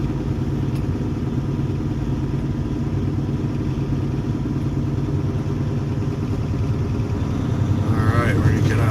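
A truck engine drones steadily while driving in second gear, a loud low rumble with rattling clatter that swells slightly toward the end, no talk over it.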